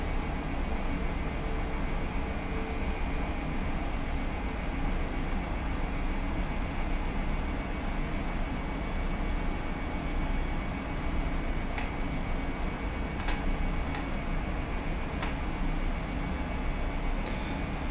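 A PMDG 737-700 airliner in a flight simulator on landing approach, its engines a loud, steady broadband roar that holds evenly throughout, with a few faint clicks near the end and no one talking.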